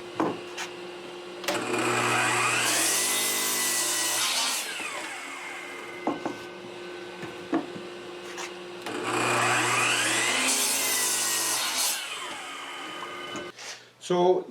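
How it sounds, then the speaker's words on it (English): Lengths of old 2x4 lumber are cut on a power saw against a stop block, with two long, loud cuts, each starting with a spin-up and ending with the blade winding down, separated by quieter handling noises. "now I can just cut 4 pieces and make those repeated"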